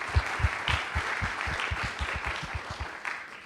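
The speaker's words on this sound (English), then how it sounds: "let's give them all a nice round of applause" An audience at a Texas urban housing affordability panel claps in a short round of applause, fairly quiet and evenly spread, with distinct hand claps in a loose rhythm.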